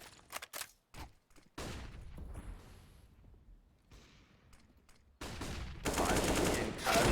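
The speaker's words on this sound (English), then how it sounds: "Haji pushing towards Arch, lands that initial AK-47 headshot" Loud bursts of AK-47 rifle fire in a professional Counter-Strike match between LDLC and Sprout, with a few sharp early shots, a pause, then heavier sustained volleys near the end.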